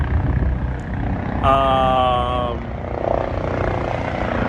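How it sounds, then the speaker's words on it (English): A helicopter arrives in Midtown Manhattan with a steady engine and rotor roar under a person talking, plus a brief tonal whine partway through. "my helicopter is arriving"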